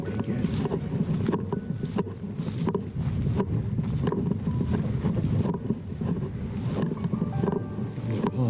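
Strong wind blows across open badlands, roaring and buffeting the microphone in continuous loud gusts with no pauses.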